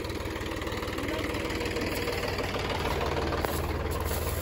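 A Mahindra Yuvo Tech Plus tractor engine running at a steady idle, loud and close, with a low, even mechanical chug and rattle that holds without pause.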